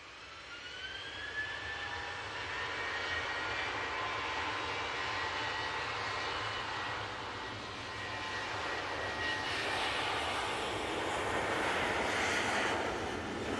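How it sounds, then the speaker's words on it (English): TUI airliner taking off from Manchester Airport for Skiathos: a sustained jet engine roar from a moderate distance, broad and steady with a faint rising whine, swelling slightly toward the end. "And that TUI is off to the lovely island of Skiathos."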